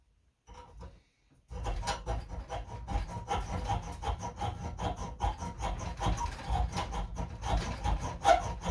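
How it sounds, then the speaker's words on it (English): Coarse file rasping across an aluminum saddle in steady back-and-forth strokes, close and fairly loud, following a brief hesitant first stroke and pause. "I'm going to want a little coarser file. Make that work quicker."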